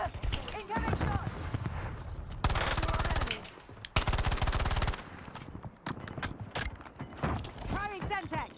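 Bursts of automatic gunfire in the video game Warzone, loud and close, with long sustained rattling volleys broken by short gaps and scattered single shots amid game noise.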